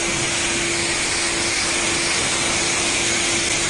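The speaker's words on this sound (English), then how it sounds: "Righto, so now we're in high pressure." A high-pressure washer spraying in a backyard, a loud, continuous hiss over a steady motor hum with a constant tone running unbroken from start to finish.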